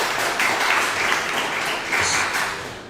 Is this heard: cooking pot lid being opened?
no